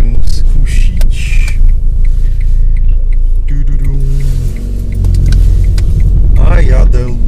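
Steady low engine rumble and road noise from inside a car driving in winter, continuous and close throughout, with a person talking over it.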